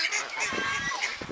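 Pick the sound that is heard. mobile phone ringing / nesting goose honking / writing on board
nesting goose honking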